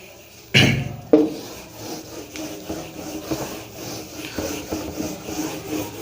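Brisk rubbing strokes wipe writing off a classroom board, starting with two sharp scrapes followed by a run of softer repeated swipes, close and alone with no talking.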